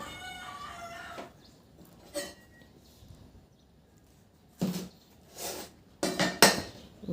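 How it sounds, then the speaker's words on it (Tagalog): A knife slices through a fresh spring roll wrapped with vegetables, giving a few short, sharp cuts and clatters against a board or plate, close and clear with quiet pauses between them. "hiwain ko lang yan sa gitna"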